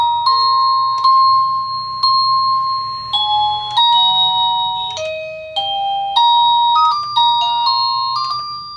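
A self-powered wireless doorbell chiming a bright electronic melody, a string of clear, loud ding tones stepping up and down in pitch, ringing alone without any talk.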